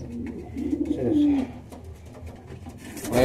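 Racing pigeons coo in a loft, a few soft throaty coos rising over a low murmur of birds and brief voices nearby.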